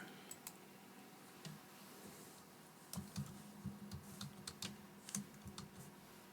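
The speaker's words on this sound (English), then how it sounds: "so now we will type out Easter" Soft keystrokes on a computer keyboard tap out a short word in irregular clusters, faint and close, over quiet room tone.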